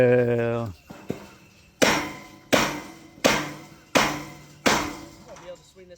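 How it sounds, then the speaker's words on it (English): Five loud, evenly spaced hammer blows ring out about every 0.7 seconds during a property overhaul, each a sharp crack with a short decay, after a brief spoken remark and a lighter knock. "I'm gonna be able to swing this hammer for 2 seconds, Jared, so you better be quiet."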